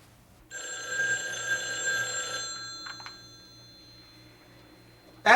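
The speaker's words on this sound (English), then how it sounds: "It's ringing." A telephone bell rings in a single sustained electric trill for about two seconds, then fades into quiet room tone, with a short clatter at the very end.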